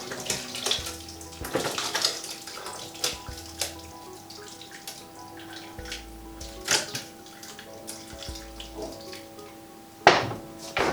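Liquid from a pot of vegan leek and potato soup, about three litres, tipped out in a batch, giving steady watery pouring and splashing with a few louder sloshes and a clatter near the end.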